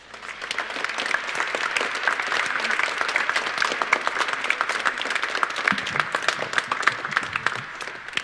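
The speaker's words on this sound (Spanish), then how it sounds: "Recibámoslo con un muy cariñoso aplauso." Warm applause rings out at a church Mass as a pilgrim is welcomed, a dense, steady clapping from a congregation that holds for several seconds before thinning slightly near the end.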